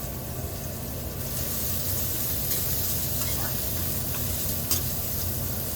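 Sliced onions frying with salt in a pan as the base for a prawn fry, giving a constant loud hiss of sizzling oil with occasional stirring scrapes, no voices.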